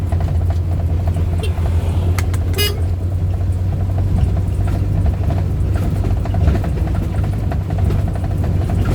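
A Suzuki Carry drives along a village road, its engine giving a steady low hum with road noise throughout, and a brief horn toot sounding near the middle.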